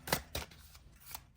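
Quiet riffling of oracle cards being shuffled, two quick bursts followed by a softer third, close by with no talking.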